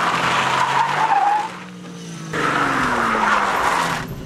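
A 1JZ-powered Toyota Supra skids with its hydraulic handbrake pulled, loud tire squeal and engine roar in two long sliding passes with a brief dip between them.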